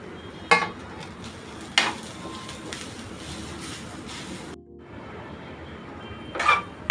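Grated fresh coconut roasting with onion in a pan, a soft steady frying hiss broken by a few sharp clinks of a utensil against the pan, no speech.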